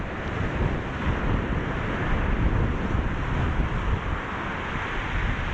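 Wind and surf on a stormy UK beach make a dense, continuous roar of crashing waves. Heavy wind buffets the microphone and adds a low rumble throughout, with no voices.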